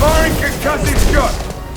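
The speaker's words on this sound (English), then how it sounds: "Firing concussive shot!" A concussive shot ability fires in Mass Effect 2: a loud, short booming blast with echoing combat noise, mixed with game dialogue.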